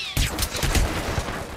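A sudden burst of gunfire in the Hitman Absolution video game cracks in loudly, then rattles on as a dense run of overlapping shots.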